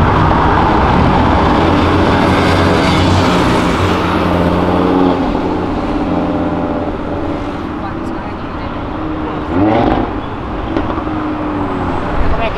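Car passing by on a road, guessed to be an Audi A4: a loud engine and tyre roar that swells and slowly fades, with people talking over it.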